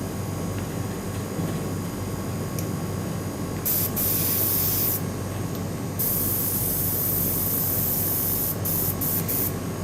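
An airbrush sprays paint onto a Bandai Spirits Petit Rise Gilgamesh figure in a steady close hiss, with louder bursts of spray breaking in now and then and no voices.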